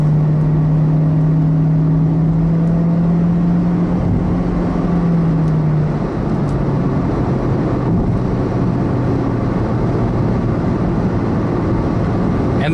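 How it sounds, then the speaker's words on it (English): A blue 2014 Honda CR-Z EX hybrid in sport mode, its engine droning loud and steady at first, the pitch holding and then dropping near the middle before a broader, rougher running tone carries on with no talk. "the car will actually rev higher"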